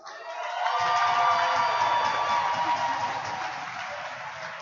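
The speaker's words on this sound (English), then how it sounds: "Let's give him a round of applause." Arena crowd at a hockey event breaks into loud, sustained applause and cheering with whoops, swelling quickly after a brief pause and then gradually easing off.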